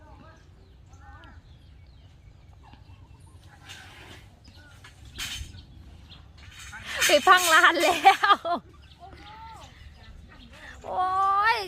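Chickens cluck and squawk in a burst of agitated calls, with people talking nearby and steady outdoor background noise.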